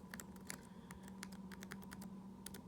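Keys on a 2009 Acer 3D laptop keyboard with Arabic and English layout being pressed in quick irregular bursts of soft clicks, close and clear over a low steady hum, with no talking.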